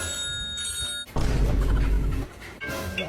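An alarm clock ringing with a bright, steady electronic tone, cut off by a loud, rough clattering burst for over a second before the ringing tone returns.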